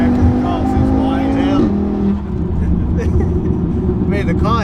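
A 2010s VW Golf Mk6 R fitted with an Audi RS3 five-cylinder turbo engine making about 520 bhp, accelerating hard from inside the cabin. Its engine note climbs and then drops at a gear change, loud and close, while people talk over it.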